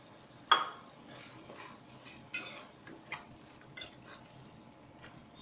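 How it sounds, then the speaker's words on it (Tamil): Chicken biryani stirred in a metal pot, scattered sharp clinks and scrapes of a spoon against the rim at irregular intervals over a faint cooking hiss. "இப்போ நல்லா கிண்டிடுங்க இன்னொருக்கா"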